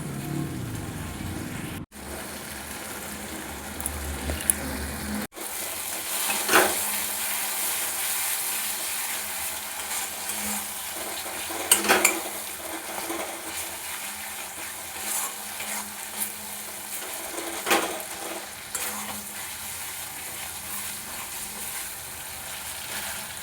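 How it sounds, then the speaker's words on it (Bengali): Mustard-poppy paste is stirred and fried in a pan for a rohu fish dish, giving a continuous soft sizzle broken by occasional spoon scrapes and clatters, with no talking. "সর্ষে পোস্ত বাটা দিয়ে বেশিক্ষণ কষাবো না দু মিনিট নেড়ে"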